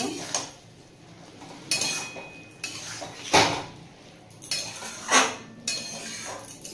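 A spoon stirs snake beans and potatoes in poppy-seed paste with a drizzle of mustard oil in a pan, giving a few sharp, close metal clanks and scrapes separated by quieter stretches.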